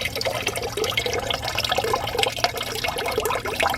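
Leftover water drains from the grey water tank of a Forest River Geo Pro RV being winterized, a close, continuous splashing gush that pours without pause throughout.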